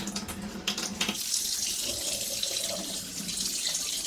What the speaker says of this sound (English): And you don't want it too hot. And I'm just going to rinse it out.